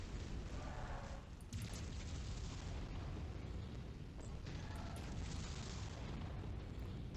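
Enemy mech gunfire and explosions in the video game MechWarrior 5: Mercenaries, a dense, continuous roar of booming blasts and bursts with sharper cracks layered over a heavy rumble.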